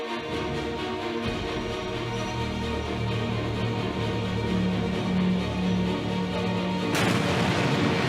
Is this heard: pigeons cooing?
no